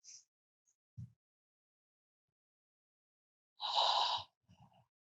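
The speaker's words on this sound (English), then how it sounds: "Just take a nice deep breath" A single deep breath drawn in then let out, fairly close and clear, with a faint earlier short breath and quiet surroundings otherwise.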